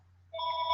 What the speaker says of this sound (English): and I apologize that my phone is ringing.